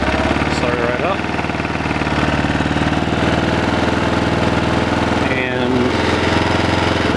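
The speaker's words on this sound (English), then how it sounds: "I'm just gonna start it right up." A 2008 Kawasaki KLR650 single-cylinder motorcycle idles right after a cold start, a loud, steady rapid thumping putter close by, with a voice briefly talking over it.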